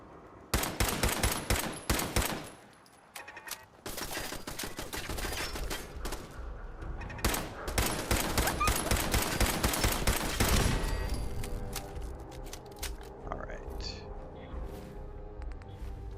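Automated turret gunfire in Fallout 4 rattles out in dense, loud bursts, with a long sustained volley in the middle and scattered shots trailing off; a voice speaks briefly amid the shooting.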